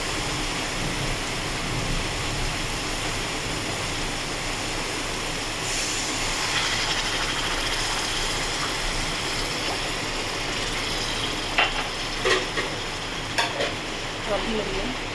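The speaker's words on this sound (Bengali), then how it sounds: "জল ঢেলে দিলাম।" Water poured into spice paste frying in oil for a Bengali katla fish curry, a dense steady sizzle and bubbling hiss with a few sharp clinks of a utensil near the end, no voices.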